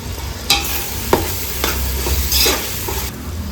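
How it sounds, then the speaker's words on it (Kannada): Garam masala, coriander powder and cumin powder for chicken tikka biryani are stirred and fried in a pan. A loud, close sizzle runs throughout, with several distinct spoon scrapes against the pan and no speech. "1 ಚಮಚದಷ್ಟು ಜೀರಿಗೆ ಪೌಡರನ್ನು ಸೇರಿಸ್ಕೊಂಡು ಚೆನ್ನಾಗಿ ಫ್ರೈ ಮಾಡ್ಕೊಳ್ಳೋಣ."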